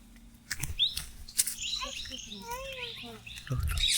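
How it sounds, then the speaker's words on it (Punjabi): A sparrow gives several quick high chirps among old trees and bamboo on stony hillside ground in Himachal, fairly close and clear, with a voice talking in between. "ਚਿੜੀ"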